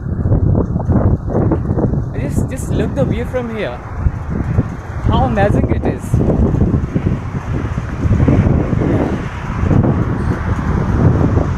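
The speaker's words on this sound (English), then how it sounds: "The weather is so beautiful and windy." Gusty wind buffets the microphone in a constant low rumble while a person talks over it, with some traffic noise in the background.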